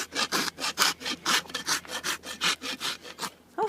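A farrier's rasp files a horse's hoof in steady, rhythmic strokes, about fourteen close, loud scraping passes back and forth with brief gaps between them and no talk.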